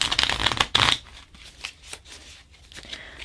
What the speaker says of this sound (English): That was by far the worst shuffle I've ever done.